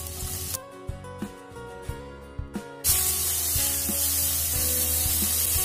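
Chopped capsicum tipped into a hot pan for paneer momo filling, a few soft clinks over background music, then an abrupt loud sizzling hiss that carries on steadily.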